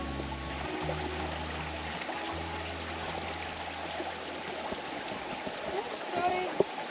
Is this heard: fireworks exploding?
no